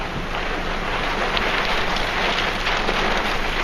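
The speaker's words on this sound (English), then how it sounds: "as it starts to rain." Rain begins falling on the I-10 freeway in Phoenix during a dust storm, a steady, loud broadband hiss that stays constant throughout, with no voices.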